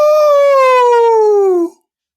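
A man imitating a wolf with a long, loud, tonal howl that slowly glides downward in pitch for nearly two seconds, then cuts off abruptly into silence.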